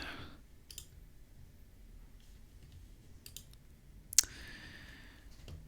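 A few sharp computer mouse clicks while a label template is updated in software, sparse and isolated against a quiet room, with one louder click near the end.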